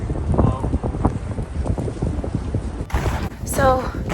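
Cold wind gusts steadily outdoors beside a chicken coop in winter, a continuous low rush of noise buffeting the microphone, with brief higher bird-like chirps and a voice near the end.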